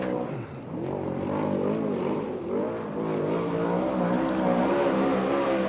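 A USAC/CRA sprint car roars through a timed qualifying lap at a 2008 race in Ventura, California, its engine note rising and falling steadily as it circles the track, loud and continuous with no voices over it.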